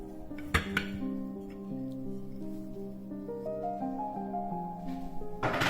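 Scrambled eggs flipped over in a microwave dish, a few clinks and scrapes of utensil against the dish, one sharp knock early and another clatter at the end, fairly close and quiet.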